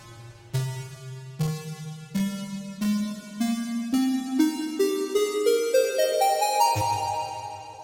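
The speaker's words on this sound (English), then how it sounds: "The first thing that I want to talk about is this bells patch down there." A soft synthesizer bells patch rings out in a dreamy outro, each struck chord blooming with shimmering overtones, a steady sequence of about a dozen notes climbing gradually in pitch before a lower chord returns near the end.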